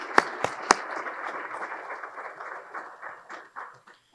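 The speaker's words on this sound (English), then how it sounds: "a big round of applause for Nick" Short, thin applause from a small conference audience, a few sharp claps up front followed by light scattered clapping that fades out within a few seconds.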